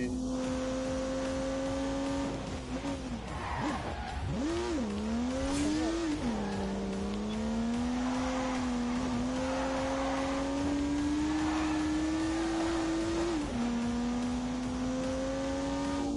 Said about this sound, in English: unleashed 365 rampaging horsepowers from the turbocharged 3-litre straight 6